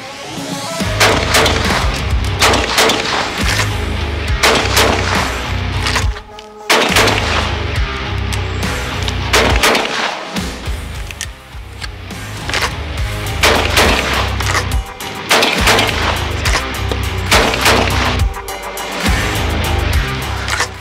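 Repeated loud gunshots from an Altobelli double-barreled shotgun in quick bursts, sharp cracks with short pauses between volleys, close and forceful, no talking.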